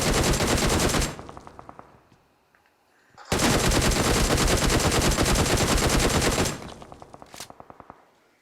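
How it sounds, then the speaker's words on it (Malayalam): Rapid automatic gunfire in the video game BGMI blasts in two long, loud bursts separated by a brief pause, followed by a few scattered single shots. "സോ അത് നമ്മൾ ഇതുപോലെ ഇങ്ങനെ വെടിവെച്ച് അത് പൊട്ടിച്ച്"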